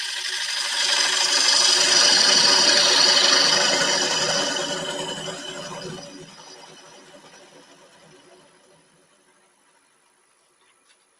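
Bowl gouge cutting wood on a lathe, a loud close rasping, hissing cut that swells early, holds for several seconds, then fades away as the tool eases off, with no talk.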